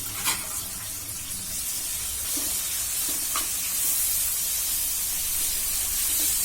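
Curry leaves hit hot oil in a pan for garlic fish curry, giving a steady, close hiss and sizzle with a few soft clicks of stirring, no voices over it.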